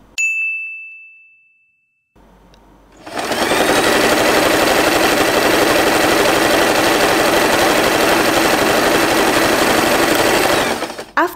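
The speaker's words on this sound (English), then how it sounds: "Take the whole fabric, fold it in half, and we are going to sew this part." A sewing machine stitches folded fabric for a two-layer hair bow. A bright ding and a short pause come first, then a loud, rapid, steady mechanical stitching rattle runs for about eight seconds before it stops.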